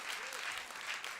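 A church congregation claps at a worship service, a steady dense wash of applause filling the space at even loudness, with a faint voice underneath.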